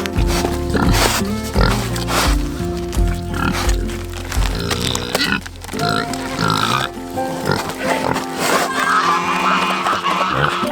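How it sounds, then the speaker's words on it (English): Pigs feeding on tomato skins on a farm, snorting and grunting close by in a busy, continuous jumble, with people talking over them. "The pigs get a special treat today."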